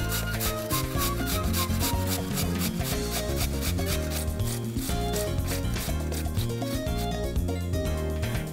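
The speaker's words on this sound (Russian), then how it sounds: "только натирается в этом рецепте картофель на крупной терке" Potatoes are rubbed against a coarse grater in a steady, rhythmic rasping that runs through the whole stretch, partly buried under prominent background music.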